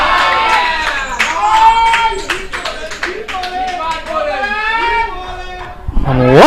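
A cricket crowd at a North Zone versus South Zone under-19 semi-final cheers and claps after a shot is pulled away for four. The applause is steady and lively, and a commentator's voice runs over it throughout.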